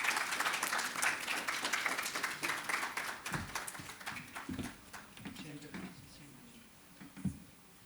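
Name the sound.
audience applause welcoming dignitaries on stage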